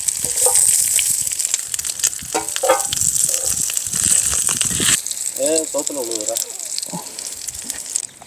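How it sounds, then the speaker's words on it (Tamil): Beef frying in ghee in a big pot at an outdoor garden feast with friends, giving a steady, loud sizzling hiss throughout, with voices talking over it partway through. "ஃப்ரை பண்ணி எடுப்பாங்க நம்ம வந்து நெய்யில் நெய்யில் போட்டுருவோம்"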